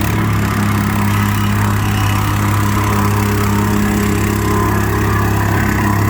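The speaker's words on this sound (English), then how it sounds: "the whacker plate is actually forcing all the kiln dried sand into the gaps along with packing it" A petrol plate compactor, or whacker plate, packing kiln dried sand into block paving gaps gives a loud, close, unbroken engine drone with a constant vibrating rumble.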